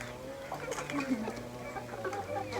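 Hens and chickens cluck in a farmyard where young chicks have been put in with the adult hens, giving soft, irregular calls close by beneath a steady background and a person's voice.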